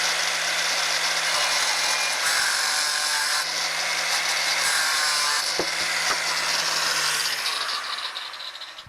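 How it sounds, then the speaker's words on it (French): A power tool cuts through a metal bar to make a clamp, grinding in a loud, continuous high whine with slight pitch shifts that fades toward the end. "Donc là, on va découper pour laisser à peu près une bonne dizaine de centimètres."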